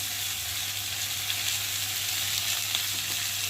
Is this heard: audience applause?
no